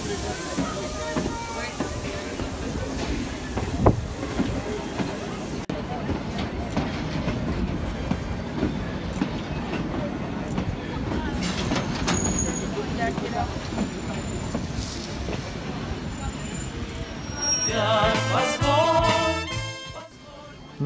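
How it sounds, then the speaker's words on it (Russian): A steam train on the Cévennes line at Anduze, France, rolls into the station with rumbling and clattering wheels, steam hissing, and a squeal of brakes near the end, with people talking around it. "Прибытие первого поезда."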